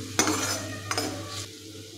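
Egg curry masala sautéed and stirred in oil, a soft continuous sizzle broken by two sharp utensil knocks against the pan.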